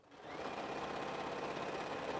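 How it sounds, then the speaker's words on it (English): A sewing machine runs steadily, stitching a quilt seam on an African-print quilt top, a continuous close whirring hum lasting the whole stretch after a quick start. "I'm going to sew this onto the top three rows"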